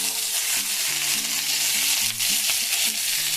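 Bitter gourd sizzles steadily in a frying pan over a medium flame, a dense, even crackle filling the whole moment at close range with no voices.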